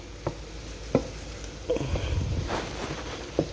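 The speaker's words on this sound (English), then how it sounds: "you gotta keep your fried rice stirred so it don't burn" Fish fried rice sizzles steadily in a non-stick skillet while a utensil scrapes and stirs it, sharp clacks landing every second or so over the continuous frying hiss, close and fairly quiet.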